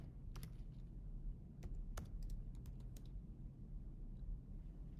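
Quiet keystrokes tap on a computer keyboard in short bursts while typing LaTeX, with irregular clicking over a low background hum.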